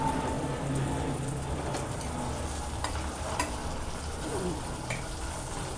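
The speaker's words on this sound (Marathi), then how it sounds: "कांदा आपला चांगला गुलाबी कलर येईपर्यंत चांगला असा परतून घेऊया आपण।" Onions sauté in a hot pan for chicken biryani, a continuous close sizzle and crackle with occasional scraping stirs, steady throughout with no talking.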